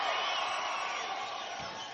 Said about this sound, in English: This is a hell of a crowd, I'll tell you.